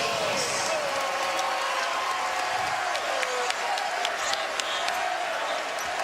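A basketball crowd at Haas Pavilion during a UCLA vs. Cal men's game roars in a sustained wash of cheering with scattered sneaker squeaks, under a commentator's voice.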